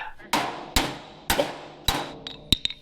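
Several sharp metallic hammer strikes ring out at uneven intervals, close and loud, the last few coming in a quicker cluster.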